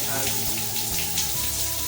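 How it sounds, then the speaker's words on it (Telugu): A bathroom shower runs during a plumber's diverter water check, giving a steady, close, even hiss of spraying water that carries on without a break for the whole stretch. "ఈ విధంగా పెట్టుకున్నాం అంటే షవర్ చూడండి"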